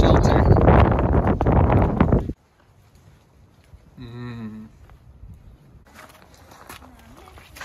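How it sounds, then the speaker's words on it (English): Strong wind buffets the microphone at a barn with a loud, broadband roar for about two seconds, then drops away, leaving a quiet outdoor background with faint sounds. "It's too windy, boys."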